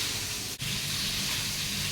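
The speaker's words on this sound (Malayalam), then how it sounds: "കഞ്ഞി തിളച്ചിട്ടുണ്ട്" Rice gruel boiling in a pressure cooker gives off a steady, fairly loud hiss of escaping steam that runs throughout, broken only by one brief dip.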